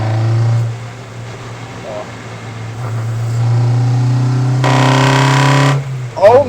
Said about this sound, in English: When you load up the throttle bodies, they just like flutter.